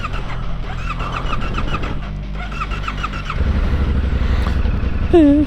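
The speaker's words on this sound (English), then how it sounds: "First ever ride on the brand new Ténéré, Yamaha Ténéré 2025." A 2025 Yamaha Ténéré 700 motorcycle rides off, its engine note climbing and dropping through several gear changes, close and fairly loud, with a brief higher whine near the end.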